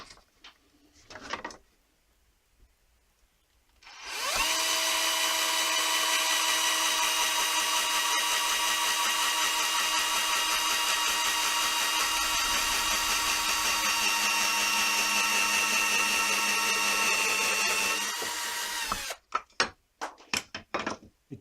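A power drill bores pilot holes in pallet-wood staircase baseboards, running as one loud, steady whining burst of about fourteen seconds, with no talking and brief quiet before and after.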